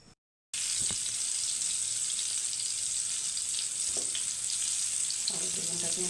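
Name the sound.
spiced eggplant frying in a pan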